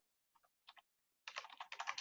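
Fast, close typing on a computer keyboard, with a few scattered keystrokes first and then a dense, continuous run of clicks over the last stretch.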